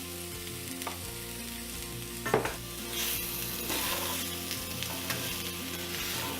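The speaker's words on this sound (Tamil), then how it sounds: "ஒரு 10 நிமிஷம் நல்லா ஃப்ரை பண்ணிக்கலாம்." Boiled baby potatoes coated in ground spice powder fry steadily in a pan, with an even close sizzle broken by occasional scrapes and clinks as they are stirred.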